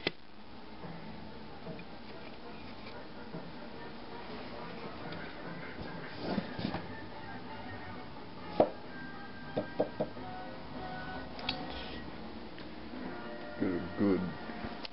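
A cleaver chops finely on a cutting board, giving scattered sharp knocks and short bursts of taps against a quiet background, with some talk around them.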